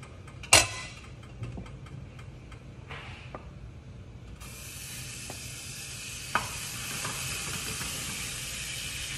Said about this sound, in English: Butter in the pan.